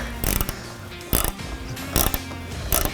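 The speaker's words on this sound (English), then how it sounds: "take a size 13 wrench here, and tighten it down" A size 13 wrench tightens a nut on a bracket while LED hood lights are fitted to a 2023 Ford Super Duty truck, giving four short bursts of close metallic ratcheting clicks separated by pauses.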